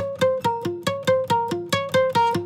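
Palm-muted downstrokes on an acoustic guitar, played as single picked notes in an even rhythm. There are about eleven short, damped, thumping strums, close and clear, with no voice.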